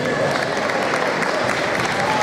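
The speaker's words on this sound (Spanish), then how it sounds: "Un aplauso fuertísimo." Loud, dense applause from an audience at a music band gathering in Tazacorte, continuous clapping with no pauses from start to end.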